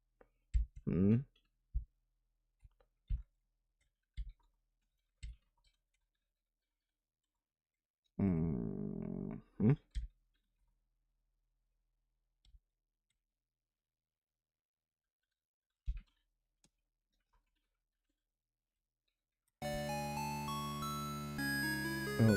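Computer keyboard keys clicking while game controls are configured, scattered single clicks and short bursts over stretches of quiet, with a brief tonal chime partway through and a sustained musical tone at the end.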